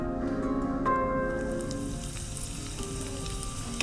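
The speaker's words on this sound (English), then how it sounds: "Now let's proceed to frying our dry fruits." Chopped dry fruits and raisins fry in a tablespoon of ghee in a pan, giving a close, dense crackling sizzle that stays steady throughout, with a faint stirring touch and no talk.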